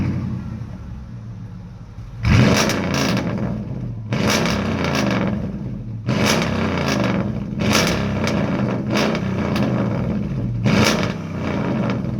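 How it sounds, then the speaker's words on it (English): Mercedes E55 AMG sedan with a V8 engine, roaring in repeated loud bursts of revving that rise and fall every couple of seconds over a deep rumbling idle, close and powerful. "a snarling, thunderous V8 roar that turns heads and demands attention"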